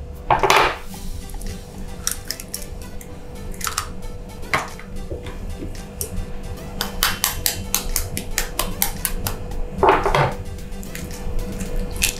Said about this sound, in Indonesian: Terus kita kocok dulu telurnya.